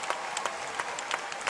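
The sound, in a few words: crowd applauding a gymnastics routine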